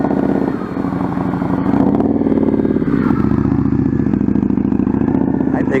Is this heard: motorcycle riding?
yes